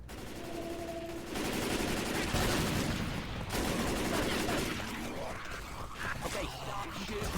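Sustained enemy gunfire in a video game, dense and steady through most of the clip, with no voices over it.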